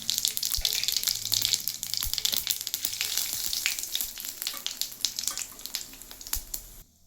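Bay leaf and cumin seeds hit hot oil for tempering, giving a steady, close sizzle with crackling pops throughout, fading out at the very end.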